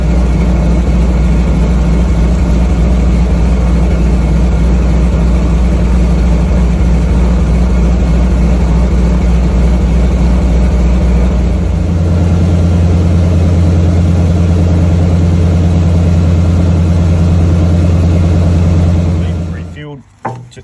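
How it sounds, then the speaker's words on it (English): The radial piston engine of a de Havilland Beaver floatplane warms up at idle, a loud, close, steady low rumble that smooths and settles partway through as more cylinders catch, before cutting at the end. "just let it warm up as more cylinders come online"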